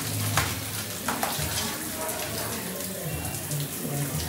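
Water runs steadily from a shower in a home bathroom, a continuous hiss with brief splashy bursts near the start, while people talk nearby.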